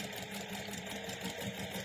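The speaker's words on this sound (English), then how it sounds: "I'm just going to stitch all the way around this edge, just to hold these layers together" Sewing machine stitching around the edge of a purse to hold fabric layers together, a continuous fast mechanical whir and patter, steady and fairly quiet.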